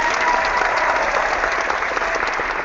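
Sustained applause sound effect played during an online corporate networking hangout, a dense, even burst of crowd clapping at steady volume with no talk over it.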